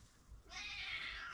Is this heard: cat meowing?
yes